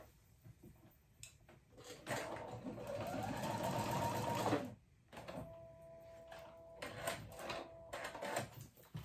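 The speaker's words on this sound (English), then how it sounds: "do a zigzag stitch on my sewing machine and just sew that tail right onto my seam" A sewing machine runs a zigzag stitch to attach a fabric tail onto a dress neckband seam, a fast close mechanical whir for a few seconds, then a pause and another shorter run with some handling clatter.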